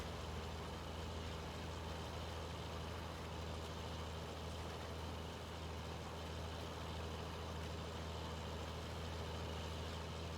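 Red tractor driving in Farming Simulator 19, its engine a steady, low, even drone with no change in pace, carrying on alone without talk.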